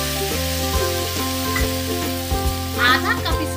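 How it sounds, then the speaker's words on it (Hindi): Breadcrumbs roasting in desi ghee for bread barfi, a steady close sizzle with soft scraping stirs repeating every second or so, no voices. "ब्रेड क्रम्स को हम इस देशी घी में डालेंगे और इसको हम थोड़ा सा भूनेंगे।"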